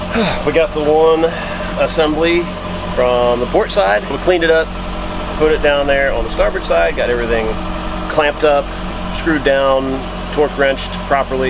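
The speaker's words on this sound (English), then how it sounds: "That's the sound of the motor running again." A sailboat's motor runs at a steady idle, a continuous low rumble under someone talking throughout.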